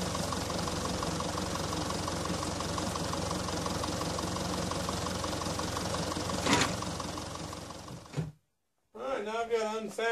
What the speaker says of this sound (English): So I think I'll put the tractor back on it